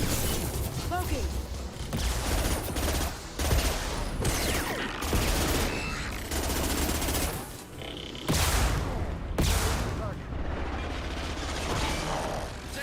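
Dense, continuous gunfire and explosions fill a firefight in the video game Mass Effect 2. Battle noise is loud and sustained, broken only by brief dips, and a voice speaks over it.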